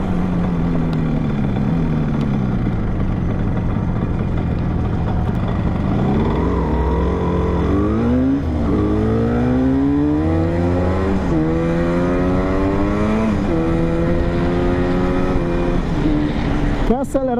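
Engine of a 1974 Yamaha RD 350 two-stroke motorcycle idling, then revving repeatedly in rising and falling sweeps, loud and close, with voices talking over it.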